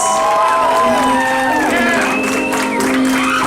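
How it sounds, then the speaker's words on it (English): Wedding guests at Riverwalk Golf Club applauding and cheering after the couple's first dance: loud crowd clapping mixed with whoops and shouts, with tonal sounds running through the noise. "Applause for Mr. and Mrs. Richardson"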